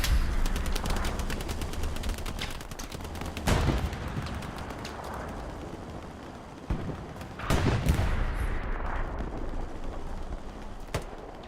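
Sustained machine-gun fire in the console shooter Hell Let Loose, a dense stream of rapid shots with occasional heavier booms at mid distance, steady and loud throughout with no talk.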